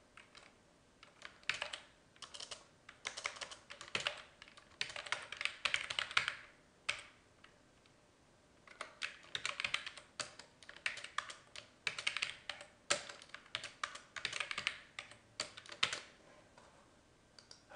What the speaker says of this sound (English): we click the New button and start typing.